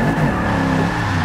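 Holden VL Commodore on drag tires launching after a clutch drop in Forza 6, with a loud, steady engine roar sustained up close throughout, no talking.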